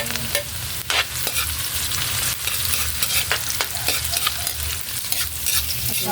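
Chopped garlic sizzles and fries steadily in a hot pan, stirred now and then with scraping clatters, while cooking eggs adobo style; the crackle stays dense and close throughout with no talking.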